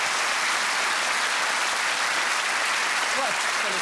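A studio audience applauds steadily and loudly at a panel comedy quiz show, a dense wash of clapping with a few faint voices and whoops near the end.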